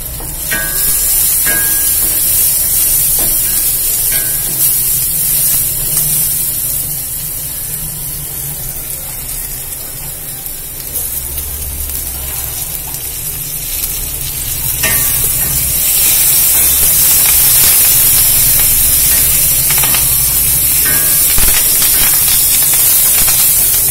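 Onions sautéing in a pan with asafoetida for cluster bean usili give a steady, loud sizzle and hiss. The frying runs continuously, swelling slightly partway through, with no voices over it.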